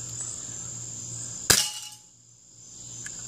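A BB gun fires and the pellet strikes a tin can with one sharp metallic crack. Near silence follows, with only a faint tick afterward.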